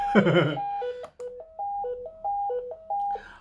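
Short synthetic square wave tones from a breadboard electronics kit step between two pitches in a simple melody after a brief burst of noise, each note clean, buzzy and evenly held.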